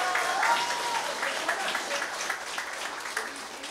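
Audience clapping at a Women's Day concert by a band, a sustained round of applause from the crowd, fairly even and filling the whole stretch, with a voice briefly audible early on.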